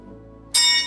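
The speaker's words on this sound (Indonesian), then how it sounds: "Kok merinding sih denger bunyi lonceng?" An old funeral bell at the Taman Prasasti museum in Jakarta is struck once, a bright metallic clang with sustained ringing overtones that starts halfway through and decays slowly, preceded by a quiet room hum.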